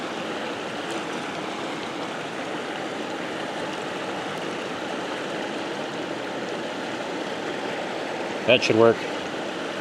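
A cold river flows with a steady broadband rush close by in an outdoor setting, and someone speaks briefly near the end.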